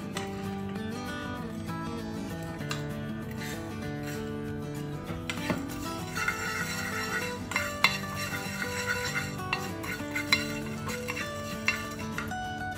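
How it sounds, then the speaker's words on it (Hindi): Whole coriander and cumin seeds dry roast in a pan, with steady scraping and stirring, light rattles and clinks of a utensil against the pan over about thirteen seconds. "इसमें धनिया डालूँगी साबुत और ये ज़ीरा, इसको हल्का से ड्राई रोस्ट कर लेंगे।"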